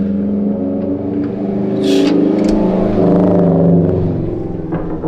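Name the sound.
Subaru engine running, sounding a little weird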